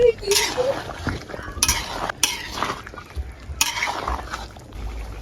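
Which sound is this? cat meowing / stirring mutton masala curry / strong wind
stirring mutton masala curry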